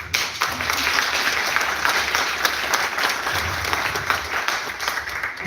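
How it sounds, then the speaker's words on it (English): Rousing audience applause at an award ceremony in Johannesburg, a dense, steady wash of clapping that holds loud and full throughout with no speech over it. "that announcement at the end really deserves a rousing applause."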